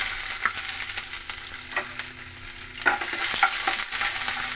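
Green chili, bay leaf and crushed ginger frying in oil with whole five-spice seeds, a steady close sizzle broken by a few sharp spatters and clinks of a spatula in the pan.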